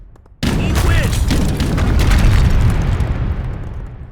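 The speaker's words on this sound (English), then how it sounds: "I think for now we'll just leave these cannon rumbling in the distance" Cannon fire in the Age of Empires strategy game: a sudden loud boom kicks off a dense, sustained rumble of battle explosions that slowly fades toward the end.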